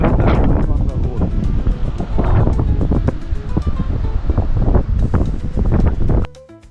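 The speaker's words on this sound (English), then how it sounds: "Heavy wind blowing here" Strong wind buffets the microphone in heavy, roaring gusts outdoors on a road near mountains around Punta Arenas, Chile, loud and continuous before cutting away abruptly at the end.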